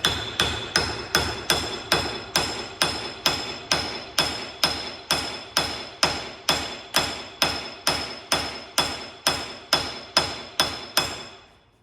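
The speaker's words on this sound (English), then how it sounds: "It is time to knock the axle out of this puppy." Steady, evenly spaced hammer blows ring out on metal as a car's rear axle is knocked out. About twenty loud, sharp strikes follow one another with no talking.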